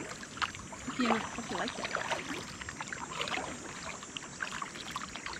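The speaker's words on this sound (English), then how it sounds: "Just gonna paddle around a little bit more, see what I can see, and make my way back." A kayak paddles on a lake near a hidden waterfall in Ontario crown land, with soft paddle splashes and water trickling under a brief spoken line.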